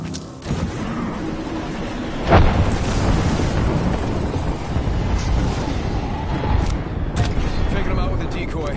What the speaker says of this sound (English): Frag out.